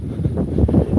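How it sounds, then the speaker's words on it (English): Steady outdoor wind buffets a microphone with low rumbling gusts that swell and ease across the clip, loud and close, with no talking over it. "It's super windy."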